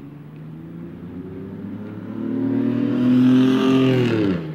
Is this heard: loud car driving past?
yes